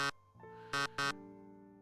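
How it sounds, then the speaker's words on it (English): Alarm in the management game Lobotomy Corporation: two or three short, loud, harsh buzzing blasts with ringing tonal tails between them, no speech. "that's the fucking alarm, because abnormalities are out."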